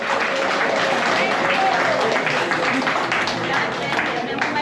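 Steady applause from an audience at a senior citizens party, a busy, even patter of many hands clapping close by, continuing for several seconds.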